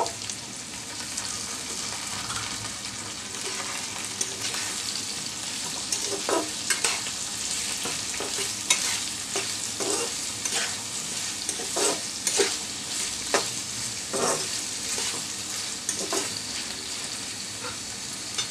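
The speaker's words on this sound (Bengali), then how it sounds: "আমি এই পেঁয়াজ রসুনের সাথে গাজর আর আলুকেও ভেজে নিব।" Diced carrot and potato fry in oil with onion and garlic for shrimp khichuri, keeping up a continuous dense sizzle with scattered scraping stirs close by and no speech.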